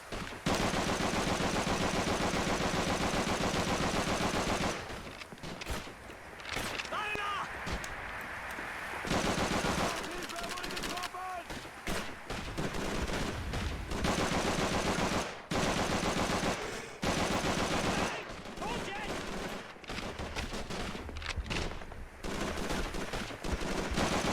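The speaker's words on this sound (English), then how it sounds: "I'm under heavy fire." Heavy gunfire from the Call of Duty 3 video game: long loud bursts of rapid machine-gun fire and scattered shots, with short gaps between volleys and voices shouting in places.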